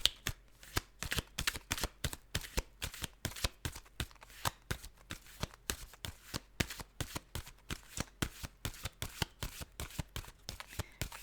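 Cards are shuffled repeatedly at close range, a quick run of crisp riffling slaps and flicks in an uneven but continuous rhythm.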